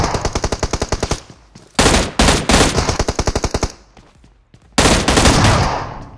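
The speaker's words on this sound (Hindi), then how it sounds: "शॉर्ट गन चिपका दी भाई उसने मेरे को" Loud, close gunfire in the shooter game PUBG Mobile: a rapid automatic burst opens, then heavy repeated shotgun-style blasts and further volleys with brief pauses between, no talking.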